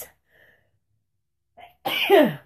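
A single loud, close sneeze from hay fever bursts out after near silence, preceded by a small sharp intake of breath.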